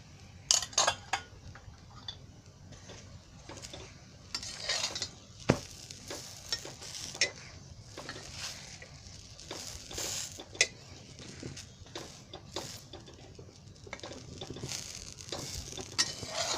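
Radish paratha roasting on a flat pan with oil drizzled over it, giving a soft, steady sizzle with scattered light clicks and scrapes of a spatula throughout; no voices.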